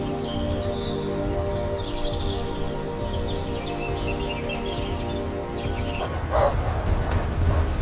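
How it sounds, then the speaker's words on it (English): Several hunting hounds howl in drawn-out, overlapping tones in a foggy morning forest, with birds chirping faintly in the background throughout. "Leaves rustle, the hounds howl"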